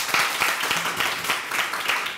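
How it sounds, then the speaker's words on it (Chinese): Audience applause at a talk: dense, steady clapping from a crowd filling the short stretch at an even loudness, with no voice over it. "大家各位给他们掌声鼓励"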